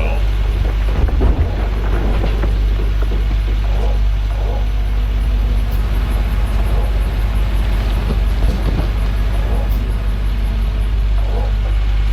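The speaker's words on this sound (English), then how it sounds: "it's pouring down rain and yet we don't have any water" Steady, loud pouring rain with low rumbling thunder in the Gold Rush: The Game video game, a continuous downpour under a deep rolling background.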